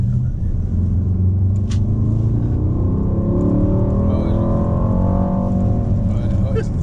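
A Mercedes GLE 63 S engine accelerates, its deep rumble climbing steadily in pitch from inside the car, heard close and continuous.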